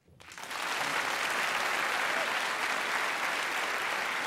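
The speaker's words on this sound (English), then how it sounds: "All right, let's all clap." Dense, steady applause from a debate audience at an Intelligence Squared U.S. event on religion, swelling in over the first half-second and then holding loud and unbroken.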